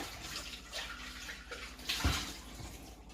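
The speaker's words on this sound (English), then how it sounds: "it's really simple just to give it a quick rinse out." Water splashes and sloshes as a Thermomix TM6 bowl gets a quick rinse, with a few louder splashes in between.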